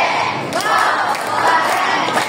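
Children shout and cheer in a classroom for a tepuk keren clapping chant, a loud sustained crowd of young voices with a few sharp accents throughout.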